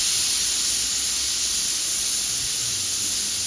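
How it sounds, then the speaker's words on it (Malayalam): A pressure cooker cooking beans lets off steam in one loud, continuous rushing hiss with a thin high whistle running through it. "കുക്കർ അടച്ച് ഒരു 6 വിസിൽ"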